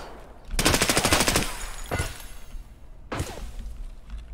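Fast automatic gunfire in Escape from Tarkov: a loud, sustained burst of rapid shots, then a single sharp report and another short volley.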